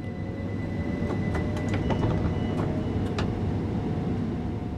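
A British passenger train on the East Coastway line in the Train Sim World game pulls away from a station, its loud steady rumble and motor hum joined by a few sharp clicks and squeals.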